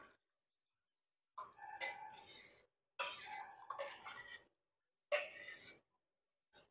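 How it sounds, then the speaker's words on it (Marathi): One litre of milk being poured into a wide pan, heard as three separate close splashing, rushing bursts of a second or so each, with silent gaps between them. "आता हे 1 लिटर दूध जे आहे ते मी पॅनमध्ये घेते"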